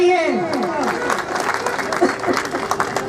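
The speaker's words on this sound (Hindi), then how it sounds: "Please give a huge hand." An audience applauds after a speech, lively clapping with some crowd noise rising as a voice talks over it at the start, then the clapping continues in uneven bursts.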